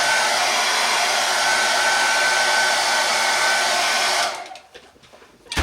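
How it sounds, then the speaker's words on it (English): A hairdryer blows loudly and steadily for several seconds drying a 1/32 scale Corsair model kit, then cuts off, leaving faint clicks and handling noise. "just give this a blast with a hairdryer"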